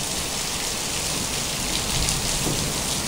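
Heavy rain pours down in a steady, dense roar of falling water that holds even through the whole stretch, with no voices.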